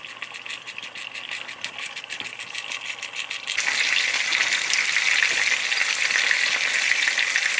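Fish frying in a hot pan, a steady crackling sizzle that jumps noticeably louder and denser partway through, then holds at a strong, continuous hiss.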